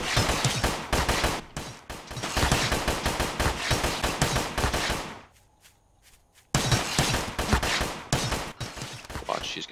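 Dense automatic gunfire in the co-op shooter GRAV, with rapid SMG-style bursts and a brief pause before firing resumes, loud and close.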